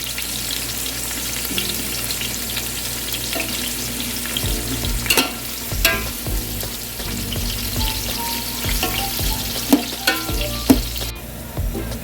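Onions fry in hot oil for Ambur chicken biryani, with a steady loud sizzle and occasional scraping stirs of a spoon through the pan.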